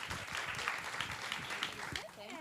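Audience applause at a dance event, dense continuous clapping from a crowd with a voice speaking over it near the end.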